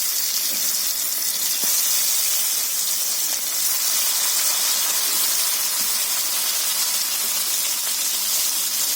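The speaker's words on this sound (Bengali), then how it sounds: "মাছটা ভাজা হতে থাক" Steady, loud hiss and crackle of fish frying in hot oil, a continuous sizzle with faint pops, no voices.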